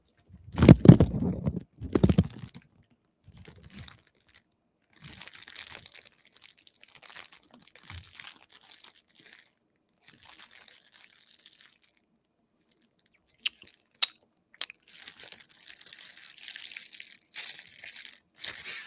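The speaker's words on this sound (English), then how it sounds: "Very crunchy plastic." A crinkly plastic wrapper on a Topps Marvel trading card pack is crumpled and torn in bursts, loud and close at first, then lighter crackles and rustles with quiet gaps between.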